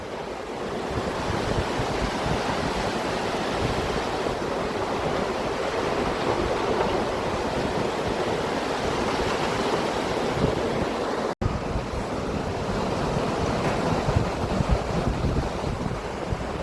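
The Alaknanda river rushes at the Keshav Prayag confluence with the Saraswati, a loud, constant roar of fast-flowing water mixed with wind buffeting the microphone, steady throughout with one brief dropout.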